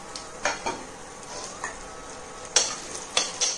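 Mustard seeds, urad and chana dal, asafoetida and halved dried chillies sizzle in hot oil for South Indian upma, a soft steady fry punctuated by sharp scattered pops and spoon clinks.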